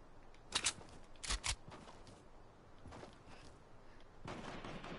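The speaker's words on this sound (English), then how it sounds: "You guys are both shooting at my base." Video game gunfire in a base-building shooter: a few short sharp bursts of shots, then quieter fire and a rising hiss, at a moderate distance.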